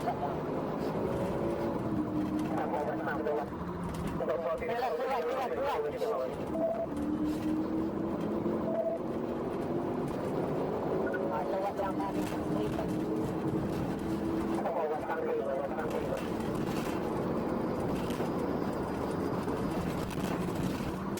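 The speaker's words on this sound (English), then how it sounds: "Even the police is driving fast." A police car is driving fast during a US chase. Its engine and road noise form a steady, fairly distant rumble with some pitch shifts as it passes, and faint talk sits underneath.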